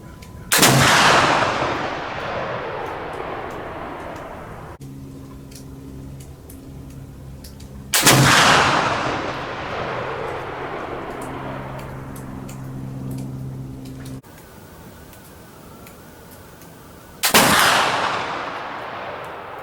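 Three loud flintlock black powder rifle shots fired outdoors in the rain, each a sharp blast with a long rolling decay, spaced several seconds apart.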